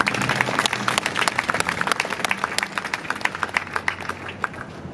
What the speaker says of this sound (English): please give a round of applause to all the soldiers of Atlas Company who work every day to make the mission happen